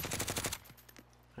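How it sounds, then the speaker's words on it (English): Rapid automatic gunfire from Call of Duty Modern Warfare, a loud burst of about eight quick shots, then it cuts off into quiet with a faint low hum. "I'm taking fire!"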